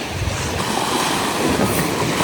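Strong wind and ocean surf roar together on an island shore at Limasawa, a loud, dense, unbroken rush with wind buffeting the microphone.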